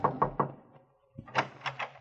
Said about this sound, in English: I knocked.